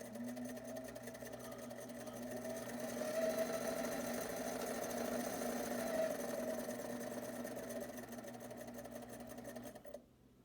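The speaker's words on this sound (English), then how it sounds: "Here's underneath the sewing machine, so you can see it is just a foot pedal that's been installed into a cabinet" A sewing machine set into a cabinet and driven by a foot pedal runs at a steady hum, swelling slightly in speed before stopping abruptly near the end.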